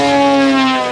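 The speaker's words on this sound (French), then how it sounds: "Et là ce que vous entendez c'est l'hélice." Steady high whine of the propeller on a very large radio-controlled model airplane, a loud, close, sustained tone with strong harmonics and no talking.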